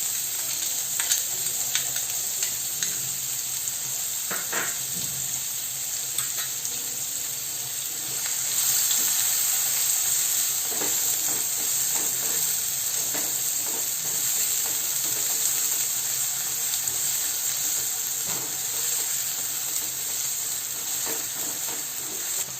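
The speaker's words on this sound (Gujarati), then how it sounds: "ચોપ ઓનિયન છે, એક મોટી લીધી છે, એ એડ કરીશું." Chopped onion frying in oil in a pan with a pinch of asafoetida, a steady close hiss and sizzle running throughout with occasional soft stirring clicks and scrapes.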